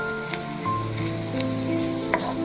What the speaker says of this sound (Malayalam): അത് ചൂടായി കഴിഞ്ഞ് നമ്മൾ ഉള്ളിയിട്ട് ഇളക്കണം.